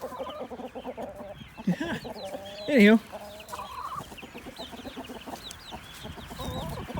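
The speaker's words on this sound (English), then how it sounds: "What's up, rooster?" Chickens and a rooster cluck around a small backyard coop for baby chickens on a homestead, brief bursts and one sharper squawking call rising above a person talking nearby.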